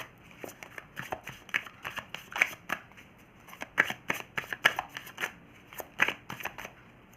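Tarot cards being shuffled by hand give close, crisp riffling and flicking bursts in an uneven rhythm, repeated quickly with short pauses, with no speech.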